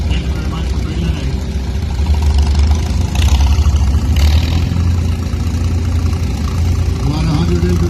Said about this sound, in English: Drinkwater from Innisville owns a really nice W4 McCormick Deering, built in 1951